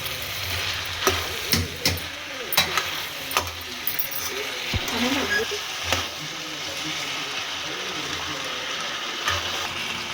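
Raw green peas tossed into vegetable fried rice in a hot pan, giving a steady crackling sizzle with scattered stirring knocks and clinks throughout, close and moderately loud.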